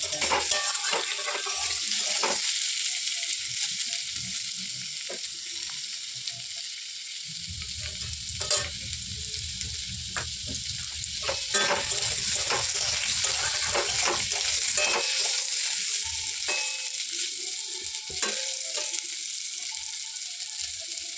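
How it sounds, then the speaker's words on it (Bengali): Lightly parboiled potatoes frying in hot mustard oil in a home kitchen, a continuous bright sizzle throughout, joined midway by a low rumbling burst like running water, with occasional clicks of utensils. "তো সর্ষের তেলটা ভালো করে গরম হলে তার মধ্যে দিয়ে দেবো হালকা সিদ্ধ করে রাখা"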